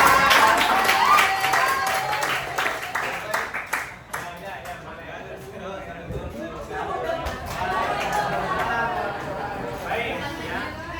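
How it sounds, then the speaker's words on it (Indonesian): A classroom of students at the close of an Indonesian Islamic religious lesson claps together. The scattered applause is mixed with voices and chatter for a few seconds, then fades as talking carries on. "Iya, kasih tepuk tangan."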